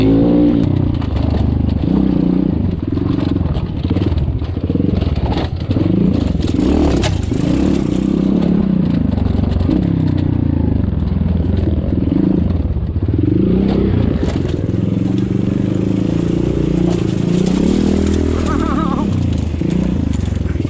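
X-Pro Storm 150 DLX dirt bike ridden over rocky enduro race terrain, a close, continuous engine drone with rising and falling revs, rattles and scrapes, with a voice talking over it.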